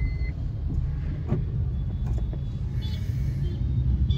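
A Honda City car engine runs steadily with a low, continuous rumble, heard from inside the car at a constant moderate level, with a few faint clicks and no one speaking.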